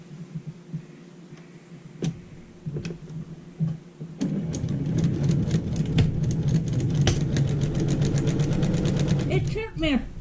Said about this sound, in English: I'm stitching the strips together now.